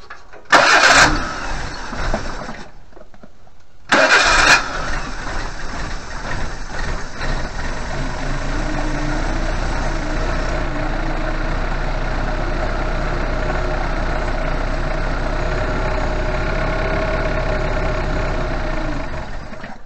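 A Suzuki Vitara wide body with a suspected dead fuel pump cranks in two short, loud bursts, then catches and settles into a steady, humming idle that runs on alone.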